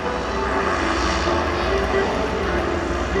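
An aerobatic plane's engine drones steadily through a spin climb-out at the EAA AirVenture Oshkosh air show, a continuous moderately distant roar with a faint tonal hum.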